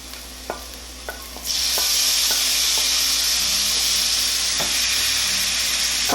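Tomatoes hit a pan of hot fried spices with a sudden loud sizzle that carries on steadily, preceded by a few faint stirring knocks, while cooking Adrak ka salan, a ginger curry.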